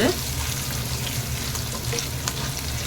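Mustard seeds, spices and turmeric frying in hot oil in a pan for Venn Pongal tempering, giving a steady, close, continuous sizzle with faint crackles throughout, and no voices.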